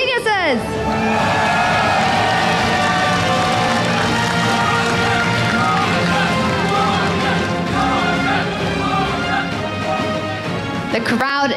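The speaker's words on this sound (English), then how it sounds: "The crowd is hyped" A large crowd cheers and roars steadily at a League of Legends esports event, a dense, loud wash of voices sustained throughout with no speech standing out.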